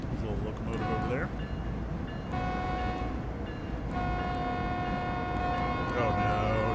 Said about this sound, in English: Oh, got my horn stuck again.